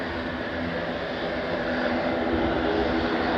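A jet airplane taking off at Stockholm Arlanda airport, a loud steady engine roar filling the air without pause, with no voices.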